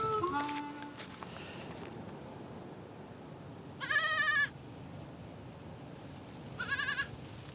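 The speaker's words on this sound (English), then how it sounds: "Every day, he follows the same route to herd his goats." A herd of goats in the rural Apalaanchi countryside of Colombia gives two bursts of loud, close bleating separated by a quiet stretch, with faint rustling and a brief earlier call at the start.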